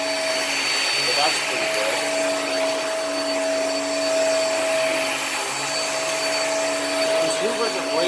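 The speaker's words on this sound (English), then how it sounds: "Hoovers are great vacuums for the price." A Hoover React vacuum cleaner runs on carpet with a loud, steady whine and whoosh throughout, while someone talks over it.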